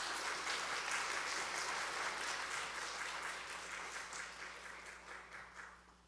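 Church congregation applauding during a Sunday service farewell, a moderately quiet, even round of clapping that gradually tapers off.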